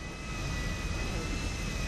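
Steady roar of an airplane jet engine in GTA, a continuous broadband whoosh with a faint high whine, loud and unbroken throughout with no talk over it.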